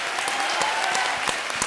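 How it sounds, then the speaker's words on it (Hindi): A television comedy show's studio audience applauds loudly as guests arrive. The clapping is thick and continuous with a few sharper claps standing out, and there is no talk over it. "जोरदार तालियां।"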